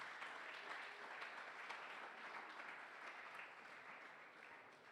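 Sustained applause from an audience in a church hall, a dense steady clapping that holds at even strength throughout and tapers only slightly near the end.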